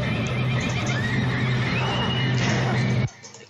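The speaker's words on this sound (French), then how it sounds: "Vous entendez ces espèces de bruits de chevaux?" A horse neighs and whinnies loudly in a long, wavering call over a dense background of hooves and noise, cutting off sharply near the end.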